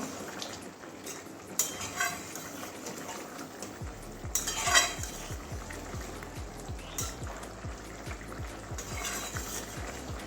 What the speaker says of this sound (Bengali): এবারে গরম মশলা দিয়ে দিচ্ছি একটুখানি ভালো করে মিশিয়ে নেবো